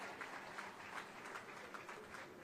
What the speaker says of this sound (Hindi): तालियों की करतल ध्वनि से हम आपका सम्मान करते हैं।